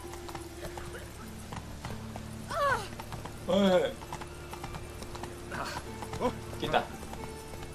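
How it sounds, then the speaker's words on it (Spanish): In The Witcher 3 video game, a horse's hooves clop up stairs in irregular steps while the horse whinnies, with a voice briefly shouting over quiet background ambience. "Ven, caballito, sube las escaleras."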